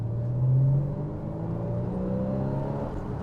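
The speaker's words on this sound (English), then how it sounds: "with the roof up, it'll give you a chance to hear that engine" A Porsche Boxster's engine, heard with the roof up on a road test, drones steadily and close with a brief swell in revs early on, then holds a smooth, even pitch.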